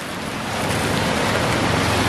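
Ocean waves on a plastic-littered stretch of Cempai Beach in Parepare, a steady loud rush of surf with wind noise on the microphone, continuous and with no voices.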